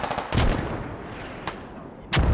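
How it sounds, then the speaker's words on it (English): Mortar fire and explosions in the video game Squad: heavy booming blasts, one at the start and another at the end, with a sharp crack between them over a continuous rumbling battlefield background. "The mortars, on the other hand, now starting to get a lot closer to the infantry."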